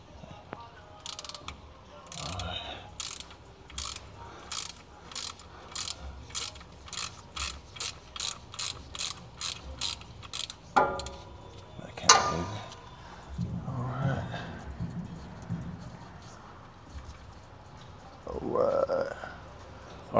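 A 3/8-inch ratchet clicking on the differential plug of a 2015–2023 Mustang GT (S550), a rapid, even string of sharp clicks up close, followed by a clank and some low handling noise and muffled voice.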